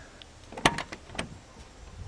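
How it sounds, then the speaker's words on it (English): Door of a 1990 VW Vanagon Carat opened by its handle: a sharp mechanical latch click followed by a second softer clunk, close and fairly quiet, with no talking. "I feel like I'm opening a door to a vehicle that transports me"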